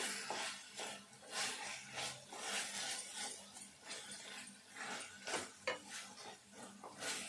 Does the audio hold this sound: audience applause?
no